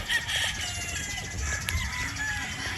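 A straight comb sweater Boston gamefowl rooster gives brief clucks and calls over a steady background hum, with faint voices and other farm noise around.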